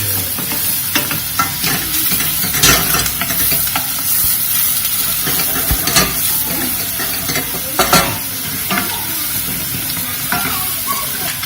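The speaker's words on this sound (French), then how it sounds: "On fait rôtir, on fait rôtir, on fait rôtir." Onions roasting in a hot pan for a Mauritian dish, with a steady sizzle broken by repeated scraping stirs of a utensil against the pan, close and fairly loud, with no talking.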